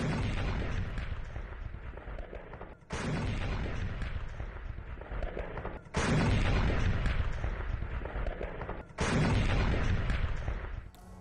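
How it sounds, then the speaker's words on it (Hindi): M48 artillery fires in Syria: loud, rumbling booms and roaring blasts in four abruptly cut bursts, each dense and heavy with no voices. "M48 आर्टिलरी से विध्वंसक अटैक किए गए हैं"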